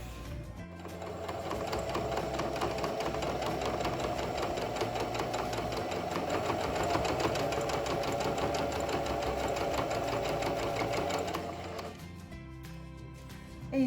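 A sewing machine runs steadily, stitching around the lining of a handmade bag, its rapid needle rhythm continuous and close for about eleven seconds before stopping.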